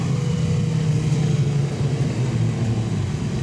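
Modified sedan race cars circle Gympie Speedway, their engines giving off a loud, continuous low rumble and drone with no break and no voices.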